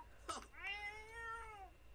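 A cat in The Sims 4 Cats & Dogs video game gives one drawn-out, wavering meow, close and clear, preceded by a short sharp noise with no talking.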